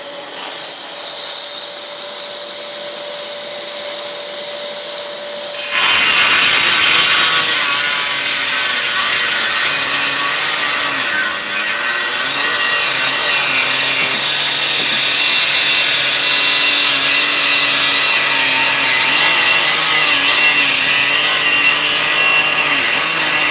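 An engraver fitted with a Distar Butterfly 45 mm disc spins up after a few quiet seconds into a loud, steady, high-pitched whine that holds unbroken to the end, close to the listener.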